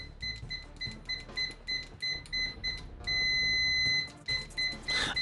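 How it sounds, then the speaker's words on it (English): An ANENG 9002 multimeter in continuity mode with stock probes gives loud, close electronic beeps, a stuttering series of short chirps, then one sustained tone, then more rapid short beeps. "Alrighty, Aphrodite, we are in continuity mode"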